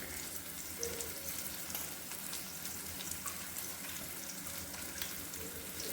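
Seven-grain khichdo cooks in a pot, giving off a dense, steady bubbling sizzle that stays even and close throughout, with no voices.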